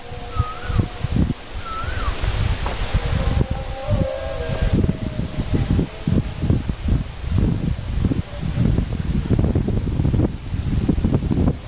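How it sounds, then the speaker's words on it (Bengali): Steady wind gusting across an open microphone, a constant broad roar with low rumbling buffets throughout, no voices. "কি অপূর্ব সুন্দর হাওয়া দিচ্ছে"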